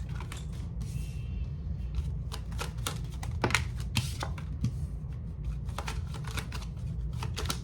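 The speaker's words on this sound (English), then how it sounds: "I'm just gonna pull some cards." Tarot cards shuffled and pulled from a deck during a reading, a run of crisp papery riffles and snaps close up, repeating throughout with no talking.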